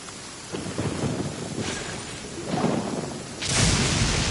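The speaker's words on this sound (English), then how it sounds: "Let us find shelter from the rain." Rain pours steadily in the video game Genshin Impact while thunder rumbles in, with a few low swelling rolls that grow louder toward the end and no speech.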